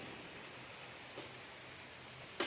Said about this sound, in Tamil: மழை ஓயாமல் பேஞ்சிட்டே கிடக்குதுங்க நல்ல மழை பெய்யுது இன்னைக்கு